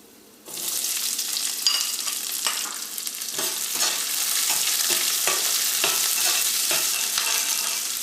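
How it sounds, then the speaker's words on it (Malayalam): Onions and green chillies hit hot oil with fried peanuts for tomato rice, bursting into a loud, steady sizzle with repeated stirring scrapes of a spoon in the pan, no talk. "ഇനി ഇതിലേക്ക് നമുക്ക് സവോളയും പച്ചമുളകും ചേർക്കാം."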